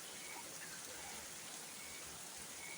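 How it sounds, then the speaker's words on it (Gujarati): Heavy monsoon rain pours down on a farm, drumming hard and steadily on tin roof sheets in a dense, continuous hiss that stays even throughout, with no voices rising above it. "આમાં પણ પતરાની નાળીઓમાં પાણી નથી થામતું, એટલો વરસાદ પડે."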